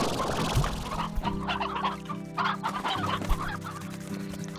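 Chickens in the video game Slime Rancher cluck repeatedly in a steady busy flock chatter, with a few sharper squawks standing out over a constant low game background hum.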